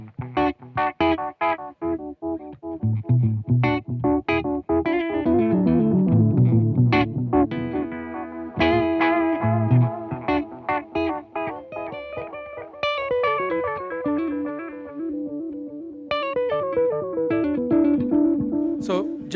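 Electric guitar played through a Beetronics Bee Bee Dee analog bucket-brigade delay pedal, a run of plucked notes and chords with delay repeats whose tone shifts from dark to bright as the tone control sweeps between low-pass and high-pass settings.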